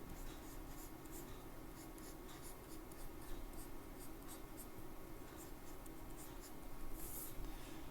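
A pen scratches steadily on a drawing tablet during work in Toon Boom Harmony, giving a faint, continuous scratch of strokes with slight rises in texture and no talking.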